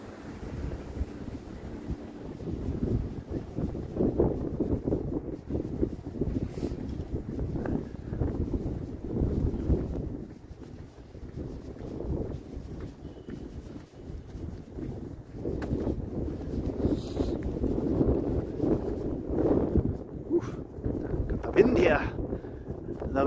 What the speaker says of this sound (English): The wind is pushing me.